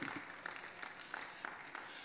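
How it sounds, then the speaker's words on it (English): Moderate applause from a church or seminar audience on family matters, a steady wash of scattered hand claps continuing at even level with no talking. "Oh, come on, put those hands together if you understand."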